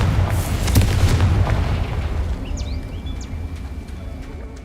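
A Confringo blasting spell in Hogwarts Legacy detonates with a loud, deep boom and rumbling burst that decays over several seconds, followed by faint high chirps like birds or creatures.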